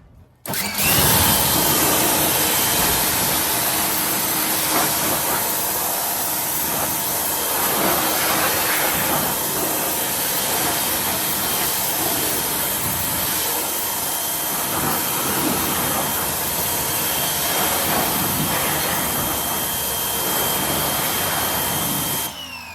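Water sprays hard onto a car wheel and tire, rinsing off wheel and tire cleaner over the brake disc. It makes a loud, steady rushing hiss that runs unbroken for the whole stretch, with no talking.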